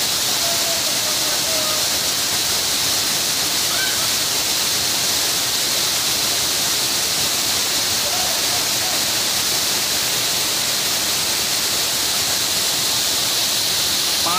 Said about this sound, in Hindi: पानी साउंड, माय गॉड